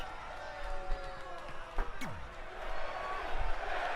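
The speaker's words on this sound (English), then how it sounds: "Crowd split on who to cheer for, it seems." Broad crowd noise from a wrestling arena in WWE 2K20 during a no-DQ tournament match, a steady murmur of cheering with brief swells and a few sharp thuds on top.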